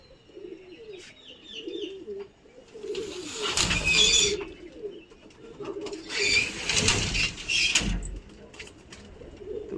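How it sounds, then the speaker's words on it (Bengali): Domestic pigeons coo continuously near a loft as it is opened and the birds are let out, with two loud rushes of wing flapping as they take off and fly away. "তো এই পায়রা ছাড়ছে, খুলে দেওয়া হলো, এই সব উড়ে গেল, আকাশে যাওয়া শুরু হয়ে গেছে।"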